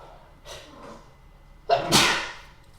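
A single sharp sneeze bursts out close by, preceded by a quick intake of breath.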